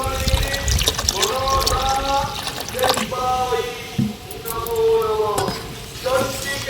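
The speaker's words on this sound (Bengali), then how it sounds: "সমস্ত আমের পাল্পটা কিন্তু এইভাবে বের করে নিয়েছি এবার দিয়ে দেব ঠান্ডা জল" Cold water poured into mango pulp for homemade mango drink, a steady trickling pour with splashes running for several seconds, with background music over it.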